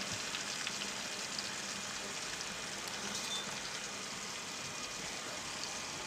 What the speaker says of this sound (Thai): เมื่อน้ำมันร้อนแล้วก็ใส่ปลาหมึก ของเราลงไปเลยนะครับ ทำการทอดเลยครับ